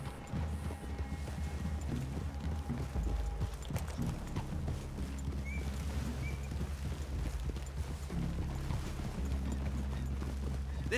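Horse hooves clop in a steady rhythm against a low ambient rumble in Red Dead Redemption 2, moderately quiet with occasional mechanical clinks.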